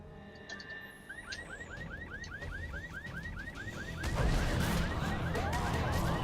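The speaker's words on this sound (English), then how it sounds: "Jump on cars to trigger the alarms." A car alarm in The Secret World game wails in a rapid repeating up-sweeping whoop, joined midway by a louder burst of crashing, chaotic game noise.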